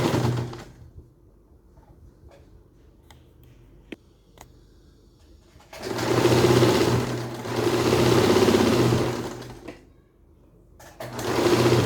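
Sewing machine stitching the belt of a ladies' pant: a quiet start with a few clicks, then two sustained bursts of steady motor whir and needle chatter, a pause, and another run starting at the end.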